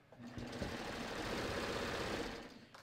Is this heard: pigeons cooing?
no